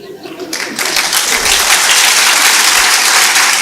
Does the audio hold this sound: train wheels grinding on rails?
no